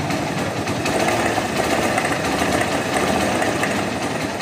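A Hero Karizma motorcycle engine idles close by with a rapid, even mechanical clatter from its timing chain and tensioner, a dense continuous rattle throughout.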